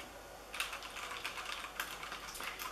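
Keys clatter on a SteelSeries Apex M500 mechanical computer keyboard in quick irregular bursts, close and fairly quiet, with no voices.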